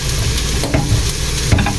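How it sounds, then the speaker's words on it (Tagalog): Soy sauce hits a hot frying pan with a loud, steady sizzle, and a few sharper crackles break through the frying noise. "Buhusan natin ng konting toyo."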